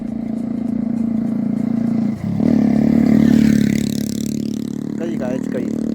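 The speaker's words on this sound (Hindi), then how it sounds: "गाइस देखो इधर से एक बाइक आ रही है, बहुत तेज़ आ रही है, बहुत स्पीड से।" A motorbike speeds past at high speed, its loud, close engine drone swelling as it goes by and then carrying on steadily, dominating the scene.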